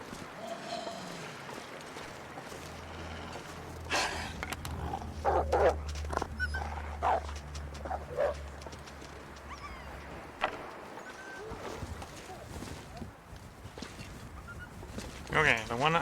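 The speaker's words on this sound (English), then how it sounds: "the one I shot with the arrow is now dead. Just heard it dying scream in the distance" In The Long Dark, a wild animal shot with an arrow gives dying cries in the distance, faint calls and yelps scattered through a quiet outdoor scene with occasional talk over it.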